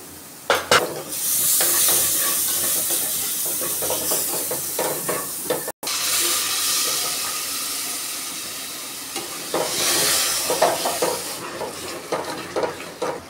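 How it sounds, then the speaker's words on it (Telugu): Onions and coconut masala frying in a pan for an Indian onion curry, a steady close sizzle with stirring and scraping, metal utensil clicks and a brief pause midway, no talking. "చూడండి, నేను ఇక్కడ ఉల్లగడ్డలు వేసేస్తున్నాను."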